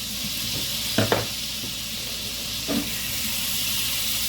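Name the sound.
sauce sizzling in the pan while being stirred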